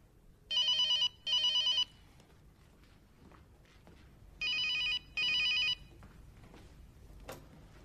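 A telephone rings in two pairs of bursts, a double ring early on and another double ring a few seconds later, loud and close against a quiet room with faint background movement.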